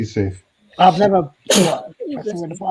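A single sharp sneeze bursts out near the middle, close and loud, amid relaxed conversational speech from people chatting before and after it.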